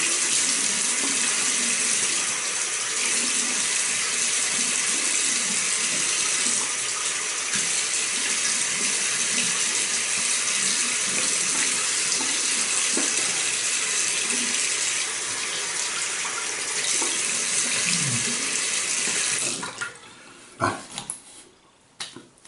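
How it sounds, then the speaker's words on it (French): Water runs steadily from a tap into a sink while the face is rinsed after a traditional shave, a loud, continuous splashing hiss that breaks into scattered drips and handling noises near the end. "Je me rince la face."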